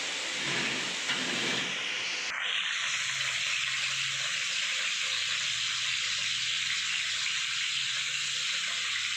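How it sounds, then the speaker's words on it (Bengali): Bay leaves and dry red chillies hitting hot oil in a wok, a loud burst of spitting sizzle that settles into a constant bright hiss. "কড়াইয়ে দিয়ে দিচ্ছি তেল এর মধ্যে ফোড়ন হিসাবে দেব দুটো তেজপাতা আর চারটে শুকনো লঙ্কা"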